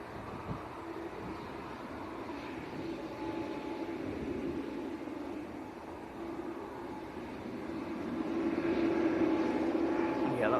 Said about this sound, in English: KLM's taxiing out